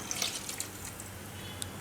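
Water pours steadily into a pressure cooker pot for soya chunk curry, a continuous splashing rush with a few brighter drips near the surface.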